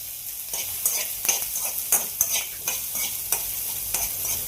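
Onion sautéing in a pan sizzles steadily while a spoon scrapes and stirs it in repeated strokes, making close, fairly loud rhythmic scraping bursts over the frying hiss.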